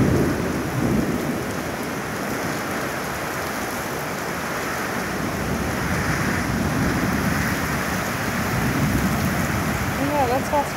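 Heavy storm rain pours steadily and loudly in Kambalda, a dense continuous roar with wind, and faint voices are heard briefly under it.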